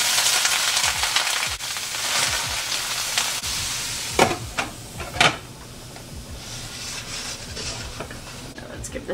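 Cauliflower rice frying in a hot pan gives a steady close sizzle, with a few sharp scrapes and knocks as it is stirred.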